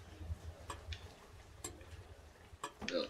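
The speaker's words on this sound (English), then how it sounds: "Freaking loud clock that still doesn't move." Loud ticking of a clock in the horror game Don't Knock Twice, sharp regular ticks sounding close against a low ambient hum.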